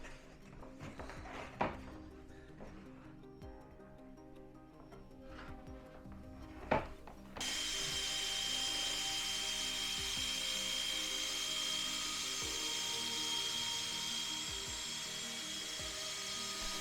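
A machine polisher spreads compound over custom carbon fibre side skirts on a Mazda MX-5 NC1. A few soft handling knocks come first, then a steady, fairly loud whirring hum runs unbroken to the end.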